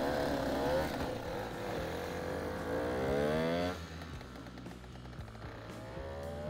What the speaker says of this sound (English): So this is my first actual test ride on the scooter.